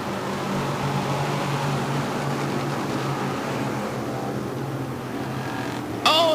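Sportsman race cars roar off at the start at Autodrome Drummond, a loud, continuous engine drone from the pack with a sharp higher whine rising right at the end.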